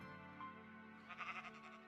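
Sheep bleating in the video game Minecraft, one wavering bleat over a steady background hum, fairly close and moderately loud, no talking.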